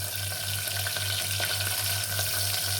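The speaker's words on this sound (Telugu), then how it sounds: "బాగా కొద్దిగా ఫ్రై చేసుకుందాము." Onions, green chillies and curry leaves fry in a hot pan with a steady, dense sizzle close up, with soft stirring scrapes over a low hum and no talking.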